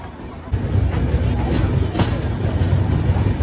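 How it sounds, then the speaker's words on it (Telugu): A passenger train pulling out of Khammam station gives a steady, deep rumble and rattle from inside the coach, swelling slightly after a quieter first half-second. "మన ట్రైన్ అయితే ఖమ్మం నుంచి కూడా స్టార్ట్ అయితే అయిపోయింది"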